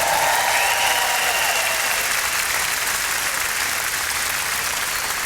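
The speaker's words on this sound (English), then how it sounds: "Let's give him a huge round of applause." A large arena crowd at a Toronto comedy show applauds in a loud, steady wash of clapping that holds evenly throughout.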